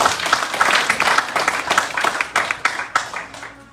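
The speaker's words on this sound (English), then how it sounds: "give yourself a big round of applause" Devotees applaud at a temple gathering during a Ramayan yagya session, a full crowd clapping that starts dense and loud, then thins into scattered individual claps.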